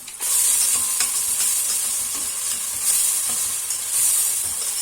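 Chopped onions sautéing in a pan with a little salt for sulu köfte, a steady bright sizzle with faint stirring scrapes, close and continuous, no talk.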